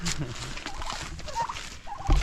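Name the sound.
turkeys gobbling on homestead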